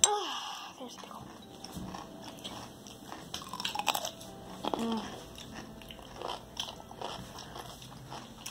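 Someone bites into and crunches a pickle close to the mic, giving several wet crisp bites and chewing sounds amid faint background noise and quiet talk.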